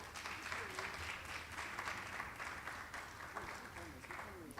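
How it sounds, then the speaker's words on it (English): Conference audience applauding at a live session, a dense, fairly quiet wash of clapping with faint voices and a few whoops mixed in. "let's give them another round of applause"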